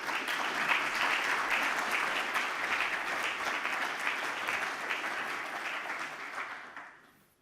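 An audience at an economic conference in a hall gives sustained applause, a dense, even roar of many hands that holds for several seconds and then fades quickly to silence.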